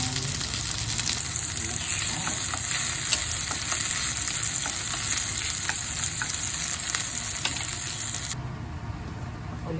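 Onions sautéing with browned pork for a Filipino pork menudo, with a dense, close frying crackle and scattered stirring clicks throughout.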